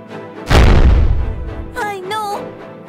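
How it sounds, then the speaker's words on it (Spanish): A single loud gunshot cracks out in an animated film, a sharp close blast that rings down into a decaying rumble before a short vocal sound follows. "¡Qué disparo tan fuerte!"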